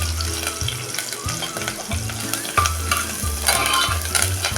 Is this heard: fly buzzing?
no